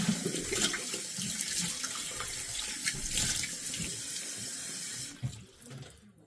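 A faucet runs steadily into a sink, a continuous splashing hiss that stops abruptly near the end, with no talking.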